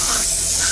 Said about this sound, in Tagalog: Tignan natin kung magugustuhan mo ang pepper spray.